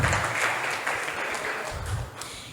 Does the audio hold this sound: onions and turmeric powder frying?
no